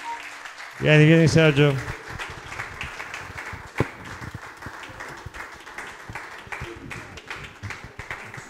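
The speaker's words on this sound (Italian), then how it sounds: "Applauso." Guests at a wedding film festival awards ceremony clap in a loose, moderately loud round of applause after a brief loud call from the presenter, with scattered voices mixed in.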